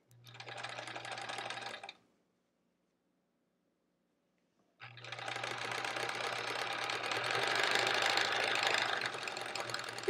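A sewing machine stitches quilt blocks in two runs, a short burst and then a longer, steadier stretch, with a pause of silence between them. The whirring is close and even, with no talk over it.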